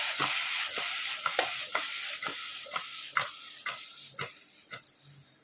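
Rhythmic soft thuds and rustles repeat about twice a second as bottle gourd pieces with turmeric and salt are tossed in a pot using a cloth, close and fairly quiet.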